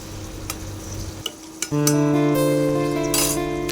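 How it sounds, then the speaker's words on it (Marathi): Chopped onion hits hot oil with a sudden loud sizzle after a few metal clinks and taps of a utensil on the pan, then frying steadily and close for a dried vakti fish rassa. "आता त्यामध्ये चिरलेला कांदा घालून सोनेरी रंग येईपर्यंत परतून घेऊया"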